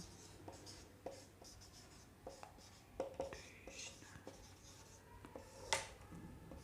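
Chalk or marker strokes on a classroom board during a science lesson on rest and motion, a run of short scratchy taps and scrapes at close range, with faint quiet talk around them.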